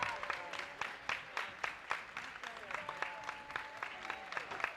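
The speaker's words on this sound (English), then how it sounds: "Can we all give these guys a huge, huge round of applause?" An audience claps steadily in a warm, sustained round of applause, with no voices standing out.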